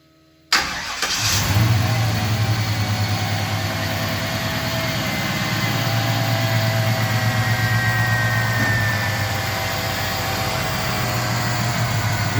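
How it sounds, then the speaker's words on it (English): A brand-new LT1 V8 in a 1953 GMC panel truck cranks and fires after brief silence, then settles into a loud, close, rumbling idle with light blips of revving and no talk. "this is the first time this motor started up since we got it out of the crate"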